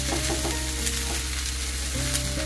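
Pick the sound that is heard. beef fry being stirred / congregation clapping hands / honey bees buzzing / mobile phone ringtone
beef fry being stirred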